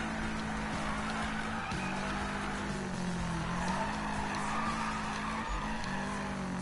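Tyres skid and squeal continuously as a car drifts in Need for Speed, a long sustained screech over a steady engine drone, loud and unbroken with slight pitch wavers.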